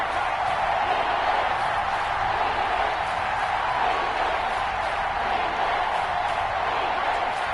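Stadium crowd noise from a PS4 American football video game, a steady dense roar of cheering that holds at an even loud level throughout, with no break or swell.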